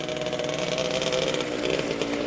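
A 2023 season test ride on a DKW RT 125 two-stroke motorcycle, its engine buzzing steadily and loudly as it pulls away, with no voices.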